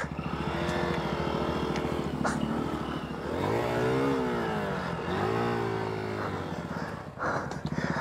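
A 2023 Honda XR150L motorcycle rides an overgrown, pine-needle-covered wooded trail; its single-cylinder engine chugs steadily up close, with the throttle rising and falling in several revving swells.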